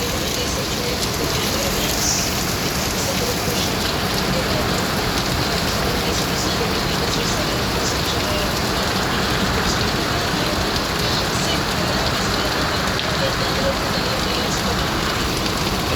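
Heavy typhoon rain pours down in a dense, unbroken roar, loud and steady throughout with no letup.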